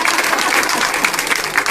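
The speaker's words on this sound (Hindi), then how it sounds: "गुड्डी देवी के लिए तालियां बजाओ" Applause for Guddi Devi at a Women's Day gathering in Bahu Akbarpur, a short burst of dense, close hand clapping from a crowd, loud and steady without a break.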